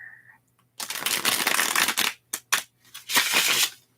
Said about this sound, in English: cards shuffled back into the decks.